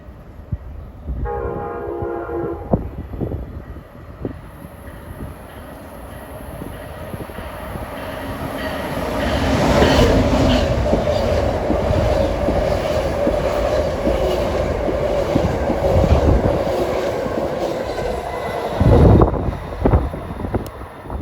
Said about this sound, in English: Approaching now at 2:32 is Amtrak 161, New York to Washington, on track 4 right near us.